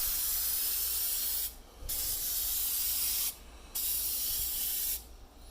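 A spray paint can lays a coat onto an antique rusty metal tackle box in three long, even hissing bursts separated by short pauses, close and steady.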